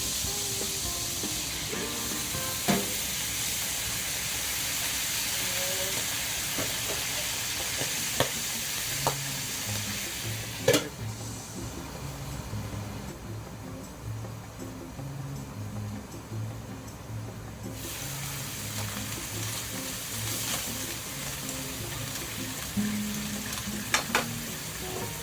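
Garlic, lightly browned, sizzles and fries steadily in a pan as white wine is added and stirred, with occasional clicks and clinks of a utensil over the crackling.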